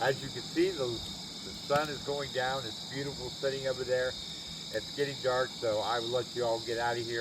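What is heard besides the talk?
crickets and locusts chirping at dusk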